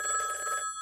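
A telephone rings briefly, a bright electronic trill with sharp high tones that cuts off within a second. The ring is near and moderately loud, with no talk over it.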